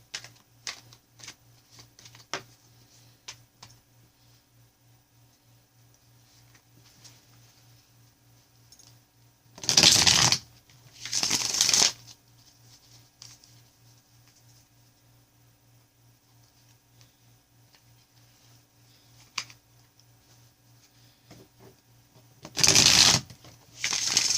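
Soft riffling of cards in three short bursts separated by long quiet stretches, with a faint steady hum underneath.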